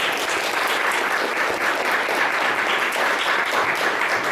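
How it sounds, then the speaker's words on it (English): A dense, steady wash of audience applause at a book event, many hands clapping together at an even level for the full stretch with no break. "So we should do a round of applause for Daniel Williams."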